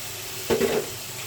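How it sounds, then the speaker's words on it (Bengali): Lentils tipped into a hot pan with tomato and salt and stir-fried, giving a brief close sizzle and scrape that rises suddenly and fades within a fraction of a second over a low background hiss. "ভালোভাবে এটা কষিয়ে নিলাম ডালগুলো দিয়ে দিচ্ছি"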